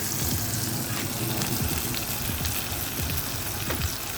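Garlic sizzling in a hot pan alongside a steak, a loud, steady crackling fry with scattered pops and spits that holds without a break, with no voices.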